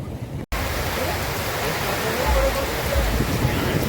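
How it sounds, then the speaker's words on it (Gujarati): Heavy rain pours down at the 2025 Porbandar fair as a dense, constant roar after a brief cut at the start, with people talking faintly beneath it. "ખૂબ વરસાદ પડે છે ભાઈ પાણી હાલતા થઈ ગયું"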